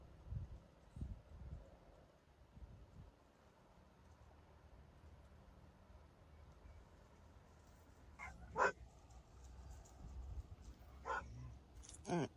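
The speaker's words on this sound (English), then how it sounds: "You can hear the barking dogs." Faint dogs bark in the distance from a Florida butterfly garden, a few scattered woofs and yips over quiet outdoor rustling.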